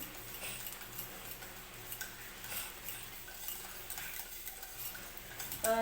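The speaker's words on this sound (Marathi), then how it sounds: "हे जे दही घेतलं आहे हे मी छान मिक्स करून घेणार आहे ज्या गुठळ्या वगैरे असतील त्या फोडून घ्यायच्या आहेत" Curd for kadhi is whisked in a bowl to break up lumps, a quick steady tapping and clicking of a spoon against the bowl, close and fairly quiet, with no talking.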